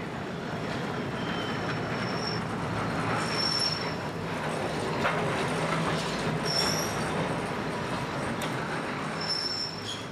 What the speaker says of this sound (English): several funicular railways like this one near Rosio station help ease the strain for pedestrians